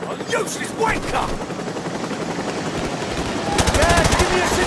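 Military helicopters in the game Call of Duty Modern Warfare Remastered, a steady rotor drone amid bursts of machine-gun fire and battle noise, with voices shouting over it.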